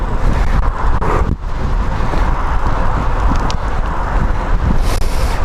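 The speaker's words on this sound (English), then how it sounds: "a video that I can't even hear myself talking because of the wind" Strong wind gusting around 20 buffets the microphone while cycling on a road bike into the wind, a continuous roaring rumble with gusty surges, loud and close, with no other clear sound coming through.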